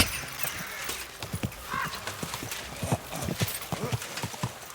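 A horse in the video game Kingdom Come: Deliverance II, hooves clip-clopping in an irregular walking rhythm with a short whinny partway through, close and moderately loud.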